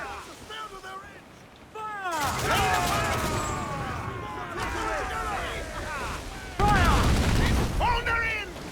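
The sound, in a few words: ship cannon fire in Assassin's Creed IV Black Flag video game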